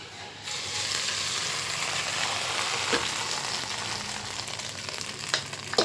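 Hot tempering poured straight into a pot of ven pongal, a steady, close sizzle that holds evenly for several seconds with a few faint scrapes on top.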